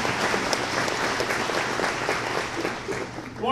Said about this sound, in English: Everybody give Roland a round of applause.